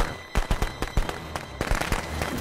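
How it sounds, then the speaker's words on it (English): Sharp firecracker bangs in a game scene, a string of loud explosive cracks spaced irregularly through the moment, some doubled, with no talk over them. "A firecracker."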